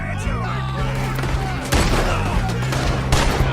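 Gunfire in Red Dead Redemption 2 during a boat robbery, a fusillade of loud overlapping shots with sharp cracks and booms over continuous low game noise and music.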